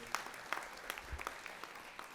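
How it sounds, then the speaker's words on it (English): Sparse, scattered clapping from a small audience at a high school STEM program celebration, faint with a few distinct sharper claps standing out. "Can we just get another round of applause for these incredible leaders?"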